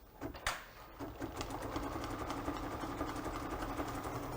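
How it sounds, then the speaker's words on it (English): An embroidery machine stitches an eye mask casing with a fast, steady mechanical whir and rhythmic needle tapping, close and fairly quiet after a couple of brief knocks at the start. "Now while this casing is stitching,"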